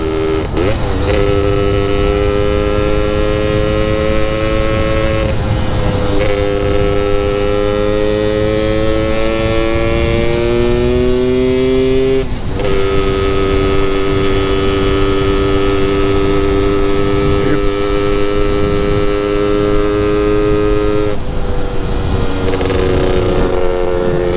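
Lambretta scooter engine running on the road with a newly fixed clutch, a loud, continuous droning whine whose pitch rises and drops as it shifts through gears.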